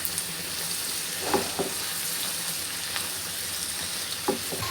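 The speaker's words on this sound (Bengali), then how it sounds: "এই যে বরবটি আর চিংড়ি মাছ ভেজে নিচ্ছি ভর্তার জন্য" Yardlong beans and shrimp frying in a pan as a steady hiss, with a few brief clinks and stirring scrapes. Close and fairly quiet, with no voices.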